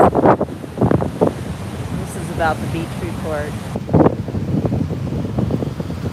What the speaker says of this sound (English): Let me go get to where it's not so windy.